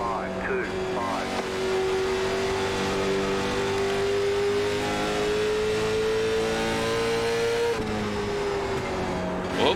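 Race car engine in the iRacing sim at Kern Raceway holds a loud, steady high-revving drone that climbs slowly, briefly dips near the end, then picks back up.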